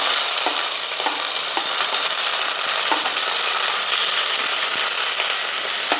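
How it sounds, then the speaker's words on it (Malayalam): Onions go into hot oil after mustard seeds have popped, for a Kerala-style taro stem curry, giving a steady close sizzle with scattered faint pops and crackles throughout. "കടുക് പൊട്ടിക്കഴിഞ്ഞ് നമുക്ക് ഉള്ളി ചേർക്കാം."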